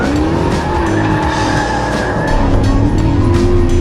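A 2020 Dodge Challenger SRT Super Stock is driven hard on track, its engine roaring loudly and steadily while the tires squeal in long rising and falling howls, close and continuous without talk.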